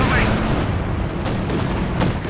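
Gunfire in the WWII strategy game Company of Heroes 2, heavy rumbling shots and sharp cracks over a dense battle din, with a voice speaking briefly amid it.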